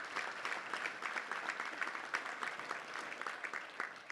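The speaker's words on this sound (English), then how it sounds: "Let's give all those sponsors a round of applause real quick if you don't mind." A luncheon crowd at the Little Rock Touchdown Club applauds the sponsors, the clapping dense, even and fairly distant throughout about four seconds.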